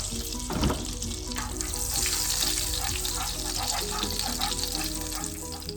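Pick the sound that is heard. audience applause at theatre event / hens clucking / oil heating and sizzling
oil heating and sizzling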